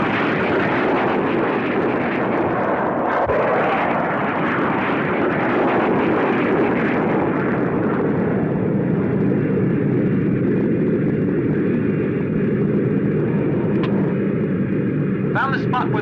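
Observation planes fly in the 1965 film Gamera, with a steady, loud engine drone that holds for the whole stretch and has dramatic music beneath it.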